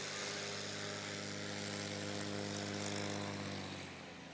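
A Bird Dog propeller airplane at a Rocky Mountain STOL competition drones steadily with an even, buzzing engine and prop hum, holding level before easing off slightly at the end, with no voices over it.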